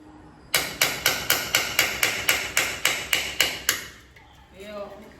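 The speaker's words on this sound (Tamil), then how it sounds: "மனசு வரல இருந்தாலும் உடைச்சிடலாம்" A hammer strikes a ceramic piggy bank about a dozen times, breaking it open with sharp, evenly spaced, close blows, followed by a moment of faint rattling and a short bit of speech.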